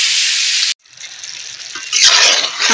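Meat frying in a pan for a yogurt and potato meat dish, a loud bright sizzle that cuts off abruptly, then returns softer and swells again into a strong hiss.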